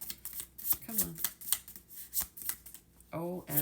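Playing cards being shuffled by hand, giving a run of quick riffling bursts and soft ruffles, with a brief voiced exclamation partway through and a spoken phrase near the end.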